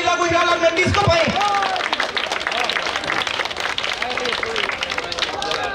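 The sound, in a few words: applause for man of the moment at cricket ceremony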